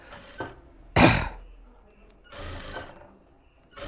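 Tailoring sewing machine stitching a puff sleeve, in two loud bursts of motor whir separated by quiet pauses, the first short and sharp, the second longer.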